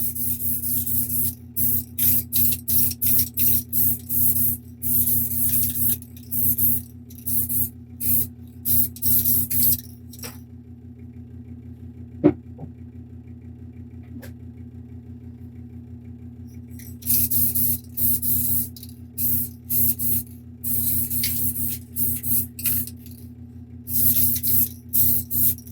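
Repeated short bursts of spray paint hiss while coating a miniature model, with a long quiet pause midway before the bursts resume, over a steady low background hum.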